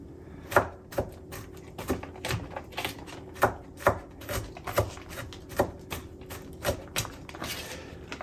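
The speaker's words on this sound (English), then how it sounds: "Once I've got the garlic and ginger mashed up to a nice consistency, I will put that to the side" Garlic and ginger are mashed by hand for a garlic sauce stir fry, giving a run of close, evenly spaced knocks and taps, roughly one or two per second, on a steady quiet kitchen background.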